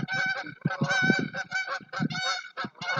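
Geese honk loudly in a rapid, overlapping chorus as a flock flies overhead, the calls close and dense with only brief gaps.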